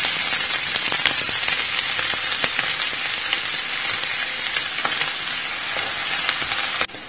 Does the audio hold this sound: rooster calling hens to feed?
no